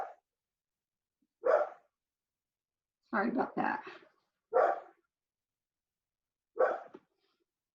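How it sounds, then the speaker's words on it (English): A handful of separate dog barks come from nearby, in short bursts spread irregularly over several seconds, with a brief spoken remark in between. "Oh, do you hear my dog barking?"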